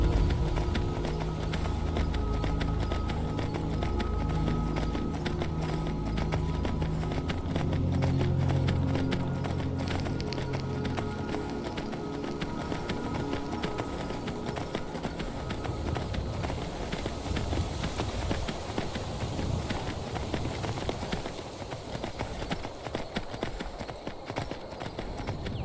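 Horse hooves in Skyrim gallop in a steady rapid clip-clop rhythm, close and fairly loud, continuing throughout the climb toward High Hrothgar with an ambient game backdrop and no talk.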